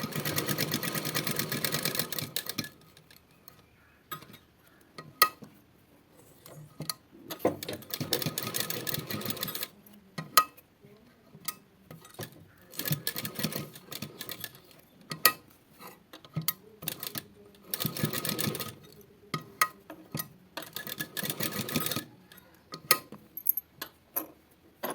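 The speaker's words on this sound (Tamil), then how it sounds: "ஸோ அதை நான் உங்களுக்கு இதை ஸ்டிச் பண்ணிட்டு இருக்கேன்." A domestic sewing machine stitching fabric during a tailoring lesson on neckline designs, running in several bursts of rapid mechanical clatter separated by pauses filled with small ticks and clicks, fairly close and without talk.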